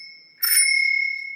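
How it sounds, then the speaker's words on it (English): A small bell on pushchair handlebars rings once, a bright sustained ding that hangs and slowly fades, close and clear in a quiet room. "It has a little bell"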